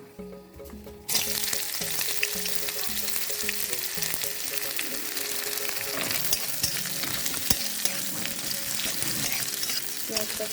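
Chopped onion hits hot oil in a pan over low gas. A sudden loud sizzle starts after a moment of quiet and keeps crackling steadily and close, with occasional stirring clinks.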